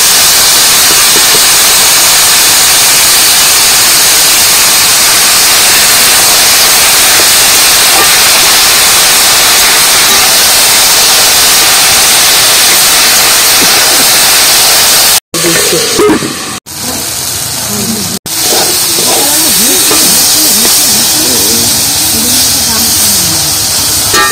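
Salted taro flowers go into hot oil in a pan, producing a loud, dense, steady hiss that breaks off briefly partway through before the sizzling carries on.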